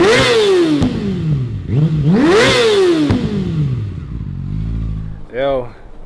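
A heavily modified Yamaha R6 sport bike revs hard several times, each sharp rise in pitch falling away, then settles into a rough idle and gives a final quick blip, loud and close.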